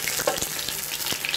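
Beef neck and leg bones sizzling in a little oil in a pan over an open fire, a steady close frying hiss with small crackles and pops, alone without talk.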